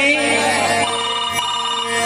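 A phone ringtone plays, a steady tonal electronic ring lasting about two seconds, close and clear.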